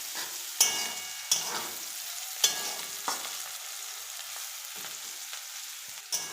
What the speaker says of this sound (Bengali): উচ্ছেগুলো ভাজা হয়ে গেছে।